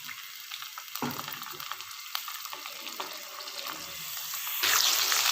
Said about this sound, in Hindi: चिकन को हम तब तक फ्राई करेंगे जब तक इसका जो है वो कलर चेंज ना हो जाए